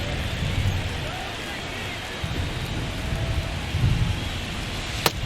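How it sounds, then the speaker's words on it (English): Steady rain with rumbling thunder from an MLB The Show baseball game, a constant wash of downpour over low rolls and a sharp crack near the end, with no talk. "It's coming down pretty good. Yeah, it is, and it's not too bad yet, but the field's not going to be able to hold up if the rain gets any worse than this."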